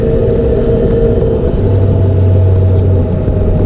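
Piaggio Beverly 400 scooter with a 400 cc engine running steadily, a loud continuous low rumble with an even drone and no change in revs.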